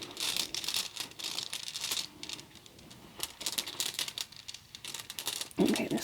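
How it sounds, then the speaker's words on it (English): Tarot cards being shuffled by hand, quiet crisp riffling and soft papery flicks in short bursts, close and gentle. "So I'm just going to shuffle these a little bit."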